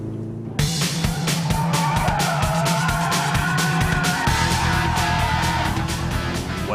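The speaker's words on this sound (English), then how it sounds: "Welcome to the Mitsubishi Evo VII, the latest and cleverest of the Evo family." Turbocharged 2-litre Mitsubishi Evo VII driven hard, engine roaring loud and steady throughout with squealing, skidding tyres, the engine note shifting partway through.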